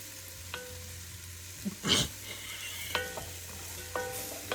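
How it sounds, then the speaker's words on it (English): Onions and vegetables stirred in a beef stew pot, the spoon scraping browned bits from the bottom in a few distinct scrapes and clinks over a quiet, low hum. "so just stir it up good. Make sure you get all that brown stuff on the bottom of the pot mixed in with these veggies real good"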